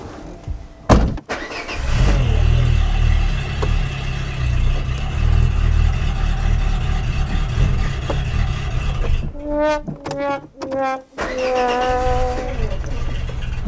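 A carburetted car engine struggles on a cold start: a crank and catch, then a rough, uneven running rumble for several seconds, close by, with a voice speaking over it near the end.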